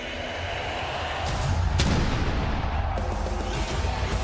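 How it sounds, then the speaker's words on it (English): Fireworks from a Royal Rumble wrestling entrance in Riyadh sound as a dense, continuous barrage of booming blasts and crackling bursts. The roar swells louder midway through and holds with no voices. "I think it's a big fireworks show."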